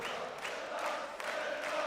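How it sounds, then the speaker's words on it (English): A partisan darts crowd partying at the European Darts Grand Prix, a steady, distant wash of massed voices singing and cheering in a large arena, fairly faint and continuous. "Partying crowd."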